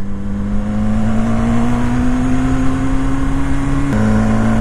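BMW S1000R motorcycle on the road, with a loud steady engine whine that slowly climbs in pitch, then drops briefly as the rider shifts, heard up close.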